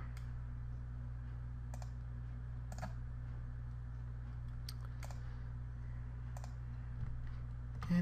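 Sparse, faint computer mouse and keyboard clicks come at irregular intervals while someone builds a level in FPS Creator, set against a steady low electrical hum.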